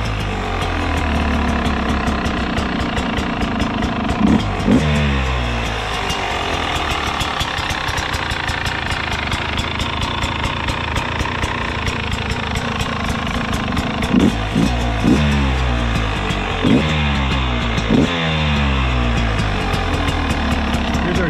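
A 2023 Beta 250 RR two-stroke dirt bike engine running close by, a rapid crackling buzz at a steady idle, broken by several sharp blips of the throttle, with no talk.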